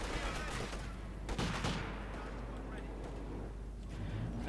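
Gunfire from guardsmen in Company of Heroes 2 crackles in a quiet, steady battle din of scattered shots, with a commentator's voice running over it.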